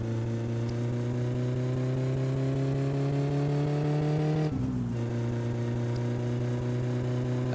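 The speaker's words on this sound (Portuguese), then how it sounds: "E agora pra voltar, vou fazer uso do nitro, mano." A Satsuma car engine in My Summer Car revs hard with nitro, a loud steady drone with rising pitch that dips briefly in a gear-shift-like gap before resuming, close and alone.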